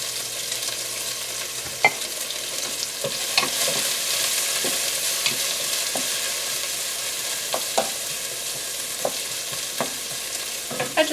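Onion sizzling in oil in a pot for chicken soup, a steady bright frying hiss with occasional stirring clicks and scrapes scattered throughout, close and fairly loud.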